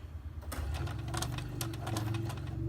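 A sewing machine running a small zigzag stitch on quarter-inch elastic, a close, continuous whirring hum with rapid clicking needle strokes, steady for the whole stretch and without talk.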